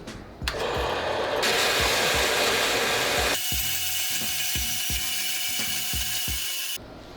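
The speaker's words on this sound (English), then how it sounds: "This is our very first metal pipe being cut in the shop ever." A metal pipe is cut in a shop machine, with a loud, steady grinding hiss running for several seconds and then changing tone. Rhythmic mechanical clicks tick underneath throughout before the cut stops abruptly.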